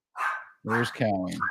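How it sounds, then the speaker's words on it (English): Dogs bark excitedly nearby as their food is prepared, a few sharp barks mixed with and partly masked by a person speaking. "You hear our dogs like barking it up because they hear their food being made."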